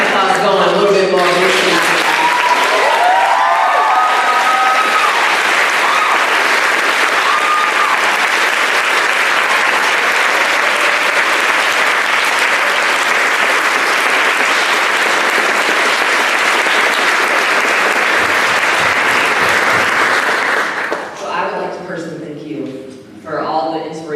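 A live audience keeps up loud, sustained applause with occasional whoops, a voice speaking over it at the start, before the clapping tapers off and talk resumes near the end.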